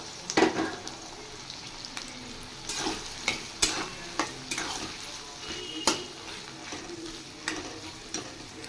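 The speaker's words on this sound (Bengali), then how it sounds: "পেঁয়াজগুলো ফ্রাই হয়ে গেছে।" Chopped onions frying in oil with cardamom, cloves and cinnamon, a low sizzle under sharp, irregular clinks and scrapes of a spoon against the pot, close and fairly quiet.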